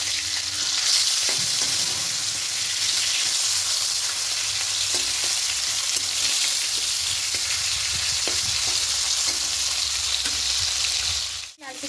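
Sardine-type fish frying in hot oil for a Bengali mustard curry, a loud continuous sizzle with occasional scrapes and stirring, ending with a clatter.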